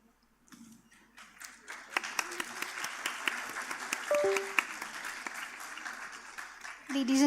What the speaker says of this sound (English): can we have a huge round of applause for all of the panelists?